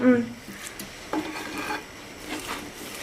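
A thick pumpkin mixture with melted jaggery gets stirred in a pan, giving soft scraping and patting strokes under a faint background sizzle, with a short tap near the start.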